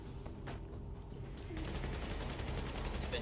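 Gunfire in the video game The Division, a dense burst of rapid shots that swells louder halfway through and keeps rattling to the end, with voices faintly under it.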